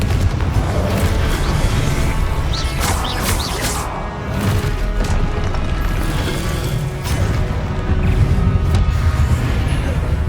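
Repeated Confringo spell explosions amid combat in the Hogwarts Legacy video game, loud dense booms and crashes piling up continuously with sharp impact bursts scattered throughout.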